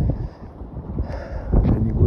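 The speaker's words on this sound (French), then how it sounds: "ici, il y a du vent" Gusty wind buffeting the microphone on a hilltop facing the Canigou mountain, a steady low rumble that swells and surges near the end, with faint talk mixed in.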